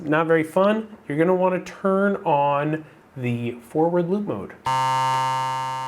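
A person speaks, then a steady, bright buzzing single-cycle waveform tone from a Digitakt sounds alone, holding one pitch at a fixed level.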